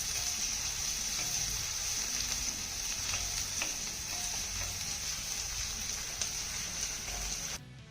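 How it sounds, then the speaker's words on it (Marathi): Finely chopped onion with cumin sautés in a pan, giving a continuous, even sizzle with occasional soft stirring scrapes. It is fairly quiet and close, with no voices. "हा कांदा आपल्याला हलक्या सोनेरी रंगावरती चांगला परतून घ्यायचा आहे."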